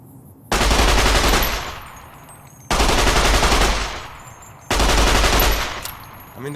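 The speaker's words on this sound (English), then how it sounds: "the grease gun's never been a looker, has it?" M3 grease gun firing in Fallout: New Vegas, three loud close bursts of automatic fire, each followed by a long decaying echo, with no talk.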